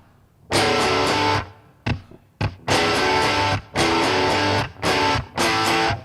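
Electric guitar in standard tuning played through heavy distortion, loud close chords struck in short bursts with abrupt stops and brief gaps, a few sharp single hits between sustained crunchy strums.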